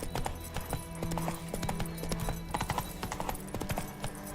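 Horse hooves clip-clopping at a steady walking rhythm in The Witcher 3, close and clear with low game ambience beneath.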